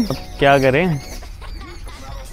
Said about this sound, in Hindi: कुछ तो मस्त चिड़िया की आवाज़ आ रही है यार।